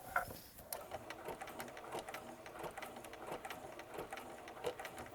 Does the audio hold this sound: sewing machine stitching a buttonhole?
yes